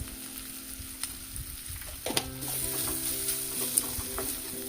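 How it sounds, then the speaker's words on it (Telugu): Mango prawn curry with garam masala sizzling in a pan while being stirred, with soft scraping and a gentle steady frying crackle close by that grows a little louder partway through. "ఒకసారి మిక్స్ చేసుకోండి బాగా. అందులో గరం మసాలా వేసాము."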